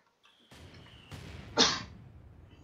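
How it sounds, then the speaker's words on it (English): One person gives a single abrupt, breathy sneeze close to the mic during a Company of Heroes 2 game cast, after a brief intake of breath, with faint background noise around it. "Sorry for the sneeze."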